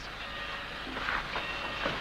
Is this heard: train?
yes